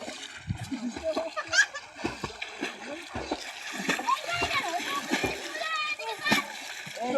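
Water splashes again and again as children bathe outdoors on a warm, sunny morning, the splashing close and irregular, mixed with children's voices and adults talking throughout.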